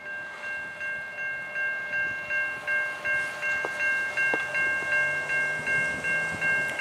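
A CN southbound freight train passes a level crossing at Ladysmith, Wisconsin, with the crossing bell ringing steadily and loudly over the rumble and clatter of the rolling cars, and no one talking.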